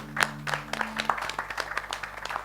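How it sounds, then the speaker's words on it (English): Applause from a small audience after a poem at an urban talent campaign event, a few seconds of uneven, close clapping with faint background hum. "A round of applause for Sam."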